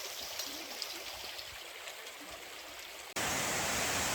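Broadband rushing water from a fairly big waterfall in the Wood of Cree woodland reserve, a steady close roar that jumps louder and brighter near the end, with no talk.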